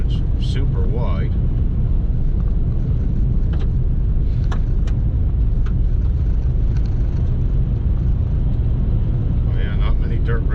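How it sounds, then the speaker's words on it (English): GMC Sierra 2500HD pickup with the 6.6 gas engine cruising around 90 km/h on a wide, well-kept dirt road, a steady low rumble of engine and road noise, with someone talking over it. "I'm running this truck along 90 kilometers an hour, even around the corners, probably 80"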